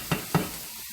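Zucchini going into a sizzling pan for vegan wild rice, two quick soft scraping stirs over a faint background hiss.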